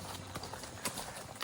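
Horse hooves clop along a gravel horse trail near Harper's Ferry, Iowa, a close, steady walking rhythm of crunching steps over a brief stretch.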